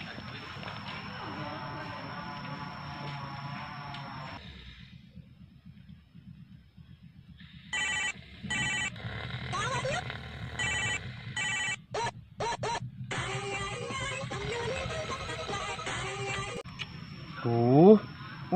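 An unanswered outgoing phone call rings with a repeating pattern of short tone bursts in the middle of the clip, under background chatter.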